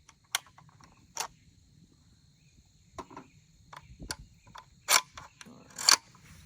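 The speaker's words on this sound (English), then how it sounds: "Let's take the mag out here." Magazine removed from a Springfield M1A Tanker rifle: a few sharp metallic clicks and clacks spaced over several seconds, close, over a quiet background.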